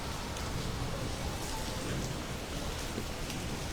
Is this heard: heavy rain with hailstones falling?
yes